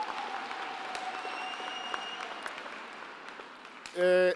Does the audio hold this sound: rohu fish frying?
no